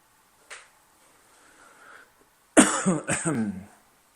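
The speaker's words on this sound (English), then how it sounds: "I'm really sorry about my coughing, it's really annoying." A single sharp cough, then a faint murmur, followed by a burst of loud, close coughing fits in the second half.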